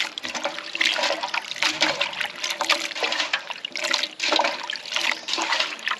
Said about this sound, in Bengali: খুব সুন্দর করে ধুয়ে নেবো।